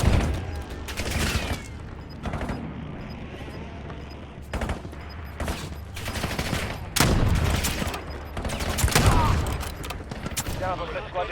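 Gunfire in the Call of Duty Warzone video game, scattered bursts and single loud shots at irregular intervals, some near and some more distant, over a steady game background.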